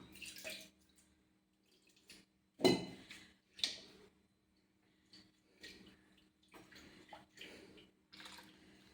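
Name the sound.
water poured and swished to rinse a vessel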